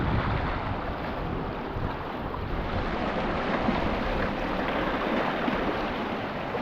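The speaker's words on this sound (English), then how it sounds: "The water's coming right over these rocks on a big wave." Waves wash over rocks on the shore at Stanage Bay in Queensland, a continuous close roar of surging water and spray mixed with wind buffeting the microphone.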